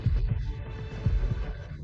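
A heartbeat sound effect thumps in steady paired beats, loud and close over a low hum, with no voices.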